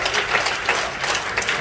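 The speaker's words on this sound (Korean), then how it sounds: "박수 한번 보여주세요" A crowd at a church youth revival service claps in a short burst of steady, dense applause, loud and close throughout.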